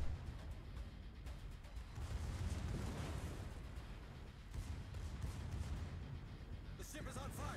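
Secondary guns on a warship in World of Warships fire at an enemy ship, a dense rumbling barrage of booms and bursts running steadily throughout, with a voice talking over part of it.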